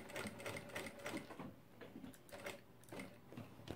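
A sewing machine stitches fabric in quick, faint mechanical bursts broken by short pauses, ticking softly and evenly.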